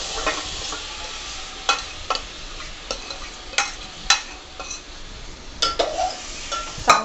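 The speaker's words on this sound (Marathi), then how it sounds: "आता आपण त्यात घालूया बॉईल केलेलं मटण." Boiled mutton is stirred into a frying coconut-and-spice masala for dry sukka mutton, giving soft sizzling with repeated scraping and stirring strokes, a few light utensil clinks, close and steady with no talk.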